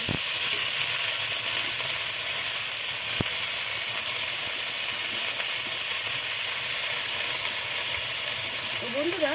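Chopped cabbage goes into a pan of spices and Kashmiri chilli already frying for a vegetarian puja-offering dish, giving a loud, continuous close sizzle and hiss.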